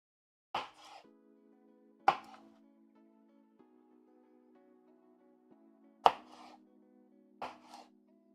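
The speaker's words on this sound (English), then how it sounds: "I probably should have cut up some more garlic and ginger" Garlic and ginger are chopped on a cutting board in a kitchen, four sharp separate knife thunks spaced a couple of seconds apart, with a faint tonal hum lingering between them.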